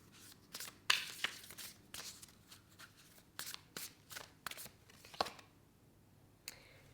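Oracle cards are shuffled by hand in a tarot reading, giving close, quiet, irregular bursts of riffling and slapping with short pauses between them, with no voices.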